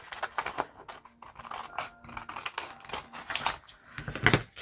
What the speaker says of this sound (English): First, I'm going to cut this off.